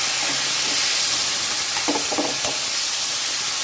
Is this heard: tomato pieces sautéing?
yes